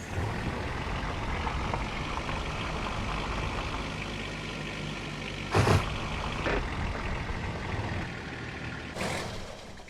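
A vehicle's tires roll steadily over a surface in a video game audio demo, a constant engine-like rumble with two sharp impact bursts from tires striking an object, one loud midway and a fainter one near the end.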